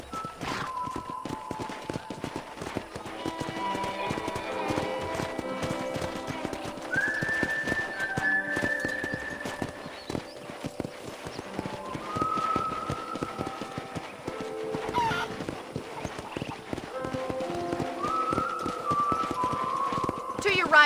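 Steady clip-clop of horse hooves at a walking pace in the video game Red Dead Redemption runs throughout, mixed with background music tones and a voice talking over it.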